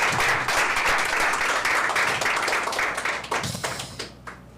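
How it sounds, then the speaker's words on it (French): Audience applause at a French reading competition, dense clapping from many hands at full strength that thins out and fades into scattered claps near the end. "Et on applaudit Béhéra."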